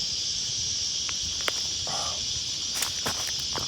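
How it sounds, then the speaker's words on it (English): Cicadas in the bush drone in a continuous high-pitched buzz, with a few brief rustles and clicks close by. "I love that sound of summer, right? Cicadas."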